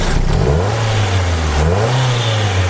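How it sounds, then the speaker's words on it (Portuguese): A car engine revs up from steady running, the pitch climbing and dipping as the throttle is worked during an automotive oscilloscope check of a temperature sensor signal, loud and close with no talking. "eu vou acelerar o carro"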